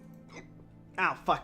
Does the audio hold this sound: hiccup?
yes